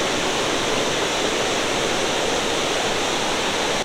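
Floodwater rushes at the confluence of two mountain streams near Gatlinburg in the Great Smoky Mountains after Hurricane Ida, a loud, steady, unbroken roar of white water with no voices.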